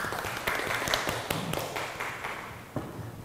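A small group applauds a participant at a Halloween makeup workshop, with scattered light claps and taps that are soft, sparse and fade out over a few seconds.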